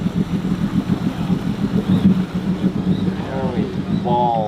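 Homemade barge powered by a helicopter engine speeding across water, a loud pulsing engine drone with wind buffeting, voices calling out briefly near the end.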